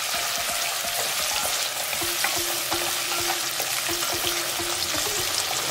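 Tomatoes frying in a pan, a steady bubbling sizzle close by with repeated rhythmic spatula scrapes and light tapping, even and moderately loud, without talking.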